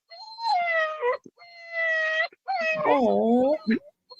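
A dog whimpers in three long, drawn-out wavering whines close to the listener, each rising and falling with a mournful tone, with a short pause between them and no other sound.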